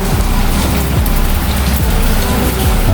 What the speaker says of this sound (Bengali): আমাদের এখানে বৃষ্টি হচ্ছে।